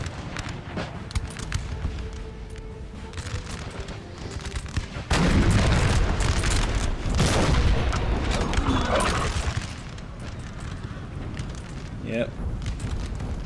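Volleys from two 12-pounder artillery cannons in the Napoleon Total War video game, deep booming blasts and rumbling impacts layered over a steady battle din, with someone talking briefly over the noise.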